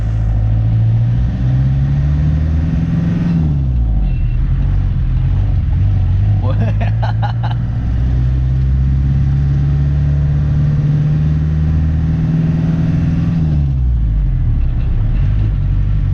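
A 1997 Land Rover Defender 300 Tdi turbo diesel with manual transmission drives with a loud, steady engine drone that rises and falls in pitch as it accelerates and shifts, with a brief rattling burst midway and occasional voices under the engine.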